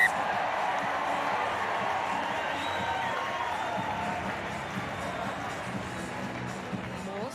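A huge home crowd at a rugby sevens match roars and applauds in a broad, sustained wash of noise after a try, with steady cheering and scattered whoops throughout.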